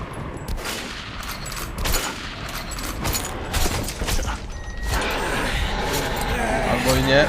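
Bursts of gunfire in the video game Metro Last Light crackle in rapid volleys with a continuous synthetic roar behind them, while someone talks over the action.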